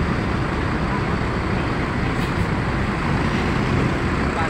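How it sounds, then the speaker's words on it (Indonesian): Rosenda bus reversing out of its parking spot at Mandiraja terminal, heard as a steady, loud engine rumble mixed with broad roadway noise that holds constant throughout, with no clear beeps or distinct events. "Dari armada Rosenda lagi parkir mundur untuk melanjutkan perjalanan ke arah barat untuk depannya ke kota Jakarta."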